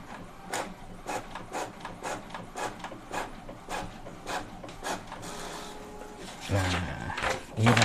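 An Epson L18050 inkjet printer printing a test page, with regular mechanical strokes of the print head sweeping back and forth and a louder paper-feed rumble near the end, heard close and moderately quiet.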